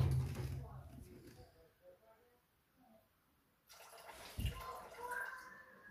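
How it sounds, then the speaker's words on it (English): Filtered water pours into a bowl for bread dough, a short trickling splash at the start, then near silence before another brief burst of pouring and handling sounds. "we need to add 300 grams of water. I use a filtered water."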